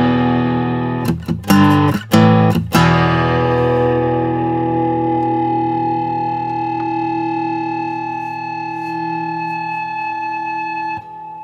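Electric guitar run through a distortion effect, with a few loud choppy strummed chords followed by a long sustained, ringing distorted note that holds steady with feedback-like overtones before cutting off.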